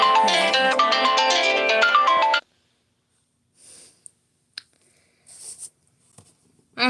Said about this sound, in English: I'm just gonna let my phone ring because I really can't